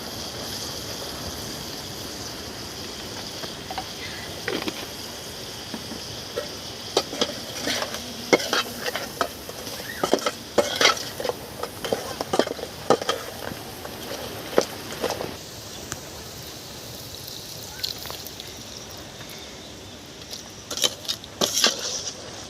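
Crab masala sautéing in hot oil with salt and chilli powder in a simple village kitchen, stirred with a spoon that scrapes and knocks the pan in irregular bursts over a continuous sizzle, close and moderately loud.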